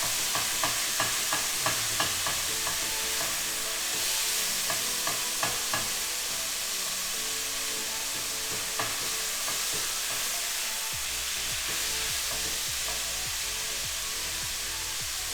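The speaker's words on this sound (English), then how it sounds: "Sizzle's a great noise, but not a great sound for stream." Ground beef sizzles steadily in a hot pan with a constant frying hiss, punctuated by soft scraping and stirring taps throughout.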